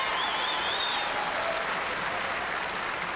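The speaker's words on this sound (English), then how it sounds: "it deserves this prolonged applause" Tennis crowd at Indian Wells applauds a brilliant rally between Hewitt and Schüttler, steady sustained clapping from a large stadium audience, even and continuous throughout.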